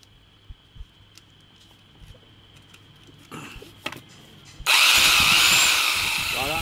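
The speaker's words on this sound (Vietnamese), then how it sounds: "để khoan từ từ để tôi coi còn chức năng nào nữa không" A hammer drill in drilling and chiselling mode starts up loudly partway through and keeps running steadily to the end, after a stretch of quieter clicks and handling noises.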